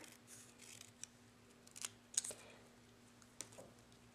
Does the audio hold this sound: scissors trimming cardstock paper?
yes